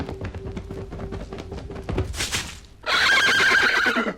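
Horses whinny and neigh loudly at close range, a long high call rising after softer snorting and shuffling, with hoof clops faint beneath.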